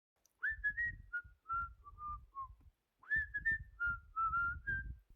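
A character whistles a bright melodic tune in two short phrases separated by a brief pause, sliding between notes, clear and close with a soft low rumble underneath.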